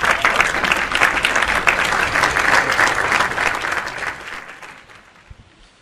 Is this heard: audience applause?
yes